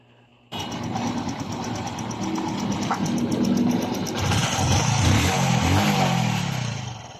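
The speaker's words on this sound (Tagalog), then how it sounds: "Balik brand new na tunog ng kanyang makina." A Honda XRM 125 motorcycle engine starts up after a top overhaul and runs steadily nearby, a continuous rumbling drone that grows slightly rougher and louder partway through.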